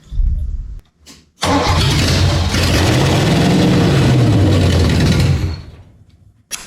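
A car engine cranks briefly, catches, and settles into a loud steady idle close by, revving slightly before cutting off.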